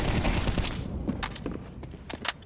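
Gunfire in a Counter-Strike 2 esports match between B8 and Mouz, with a dense burst of shots at the start followed by several sharp single reports.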